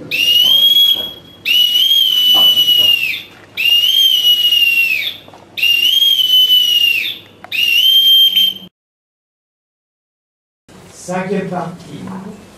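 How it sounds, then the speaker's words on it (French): A boatswain's pipe sounds five long shrill calls as a salute at a naval memorial ceremony, each rising and holding a steady high note, separated by short pauses, followed by silence and then brief voices. "Honneur par le sifflet du gabier."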